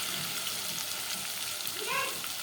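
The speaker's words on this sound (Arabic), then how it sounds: "اول ما التومه تبتدي تصفر معانا هنزل بمعلقتين صلصة" Tomato paste goes into a pan of frying garlic, and a soft, continuous sizzle hisses throughout.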